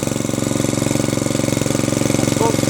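A Hyundai HYYW70 petrol power weeder on wheels runs steadily near the microphone, its small engine putting out an even, rapid chugging drone with a regular pulse, loud and alone.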